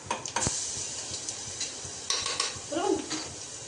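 Garlic chutney goes into khichdi in a pan, with sizzling, scraping and clinking of a spoon against the pan in uneven bursts, and people talking faintly nearby.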